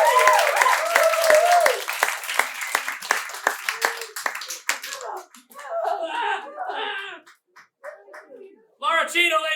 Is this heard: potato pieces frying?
no